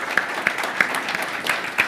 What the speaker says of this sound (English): One more round of applause for our tokenization panel.